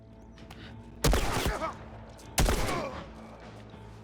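Two loud, close gunshot bursts ring out about a second apart in The Last of Us, each followed by a brief reverberant tail.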